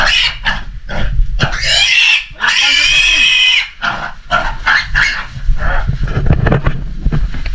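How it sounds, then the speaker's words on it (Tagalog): A pig grunts and oinks at close range in repeated bursts, with one longer squealing stretch, while people talk nearby and wind buffets the microphone. "Baboy."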